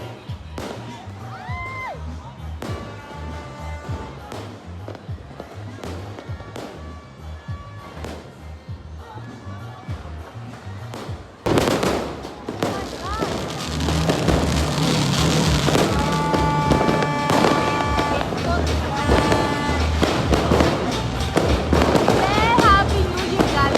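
New Year's fireworks and firecrackers burst in a long, dense run of loud cracks and pops, sparse at first and then swelling into a nearly continuous barrage, with voices mixed in.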